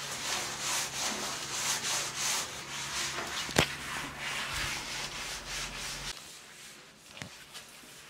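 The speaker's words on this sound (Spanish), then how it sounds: "Tallando las paredes de tu baño con estos dos ingredientes" Bathroom walls scrubbed with a homemade two-ingredient cleaning mix, a rhythmic rubbing and scraping close by, steady strokes that stop near the end, with a sharp knock partway through and no talking.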